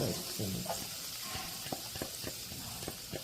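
Shredded pork stir-fried in a pan gives a soft steady sizzle with light scraping strokes and small taps of the utensil, close and fairly quiet.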